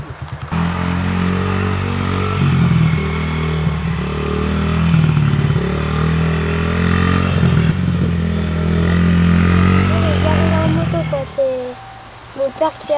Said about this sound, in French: On fait de la moto chacun notre tour et c'est bien.